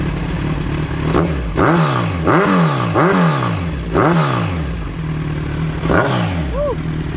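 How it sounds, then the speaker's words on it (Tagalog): Kawasaki Z1 1000cc motorcycle with an upgraded exhaust revving close by in repeated quick throttle blips that rise and fall over a rumbling idle, loud and punchy. "Sound check natin."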